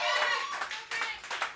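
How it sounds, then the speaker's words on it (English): Scattered hand claps from an audience at a theater showcase at The Green Room 42, thin and uneven, rising and falling in short bursts. "So give yourselves a round of applause."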